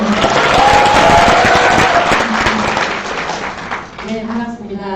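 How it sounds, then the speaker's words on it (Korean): An audience applauds to welcome a speaker at a National Assembly forum, a broad wash of clapping that swells then fades over about five seconds, with voices and some tonal sound faintly underneath. "박수로 맞이해주시기 바랍니다."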